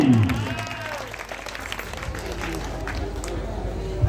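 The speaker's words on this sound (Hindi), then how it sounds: "एक जोरदार ताली।" An audience at a stage drama claps for a performer appearing as Krishna, busy applause running under voices and background music.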